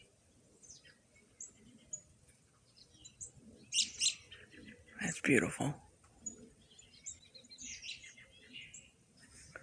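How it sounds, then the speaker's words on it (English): Faint bird chirps and tweets come through a quiet indoor space during a snowstorm, with a brief louder burst in the middle and a few soft words spoken. "I hear birds tweetering."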